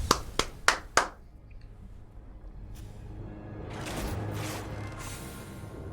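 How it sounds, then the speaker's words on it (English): Four sharp hand claps in quick succession, then a quieter stretch and a softer burst of clapping and rustling toward the end. "round of applause for our opponent"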